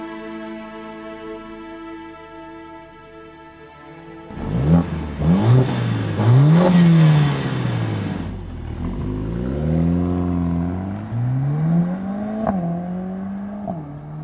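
A Mercedes-AMG A45 S accelerates hard around Circuit de Jarama near Madrid, its engine climbing through repeated revs and gear changes, loud and close with no voices.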